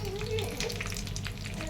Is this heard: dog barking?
no